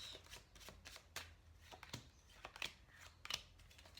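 Tarot cards being shuffled by hand for a reading, a close series of crisp riffling flutters and soft slaps repeating unevenly, quiet and alone with no voices.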